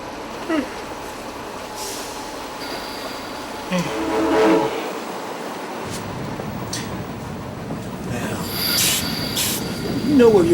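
A train running on rails gives a continuous rumbling roll with squealing wheel screeches and brief hissing bursts, heard from on board with faint voices in the background.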